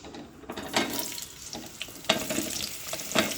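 Mixed vegetables, including bottle gourd and ridge gourd, dropped into hot oil with tempering spices for a vegetarian shukto, giving a steady close sizzle with a few scraping stirs and no talking.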